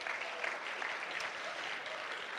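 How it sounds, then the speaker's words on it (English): Junior high and high school audience applauding for a speaker being introduced, a continuous even patter of many hands clapping, moderately distant and fairly quiet, with no clear speech over it. "Can you guys cheer for her?"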